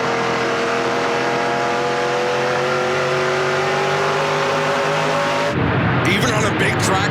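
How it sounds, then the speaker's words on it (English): A NASCAR Pinty's Series race car accelerates on throttle at New Hampshire, its engine note climbing steadily in a loud, sustained whine before cutting off abruptly into a rougher rumble and crowd-like noise. "did you hear how steadily Teej was getting onto the throttle"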